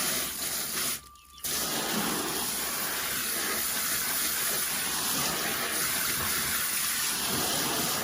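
Water pouring steadily into a container of fermenting chicken feed for meat birds in Alaska, a continuous hissing gush broken by a brief pause near the start, then running on evenly and fairly close.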